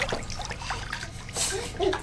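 A baby splashing water in a bathtub, several short close splashes and trickles at a low level, scattered unevenly with brief gaps.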